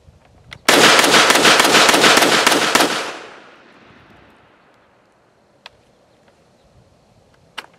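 A Walther WMP .22 Magnum pistol fires a dense, loud run of shots lasting about two seconds, then the echo fades out. Two faint, sharp clicks follow in the quiet.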